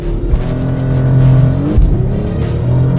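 Porsche Panamera 4 Sport Turismo E-Hybrid, 550 hp, launching hard under launch control: a loud, steady engine roar with rising gear-like pitch lines and a brief dip mid-run as it shifts, close and continuous.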